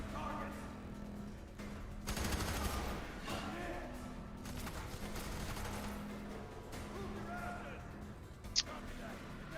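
Video game gunfire crackles in scattered bursts of rapid shots, fairly faint and mixed with other game noises, with a louder stretch early on and a sharp crack near the end.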